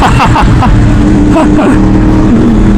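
A big bike motorcycle engine revs loud and close at a race track, its throaty drone rising and holding steady. A voice is heard over the engine.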